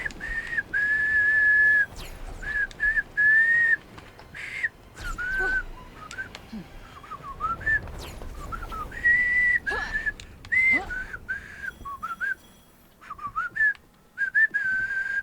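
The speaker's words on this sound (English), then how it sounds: "I whistle a lot." A person whistles a wavering tune in short, repeated phrases over a gaming stream, the whistle loud and close with brief breaks and some background noise.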